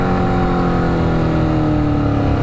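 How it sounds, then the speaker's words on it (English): A motorcycle with an aftermarket exhaust revs continuously up close, its rich rumbling exhaust tone rising and holding with no voices over it. "Listen to those rev matches, baby."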